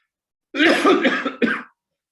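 A burst of harsh coughing, several quick hacks in a row and then one more cough after a brief pause, loud and close.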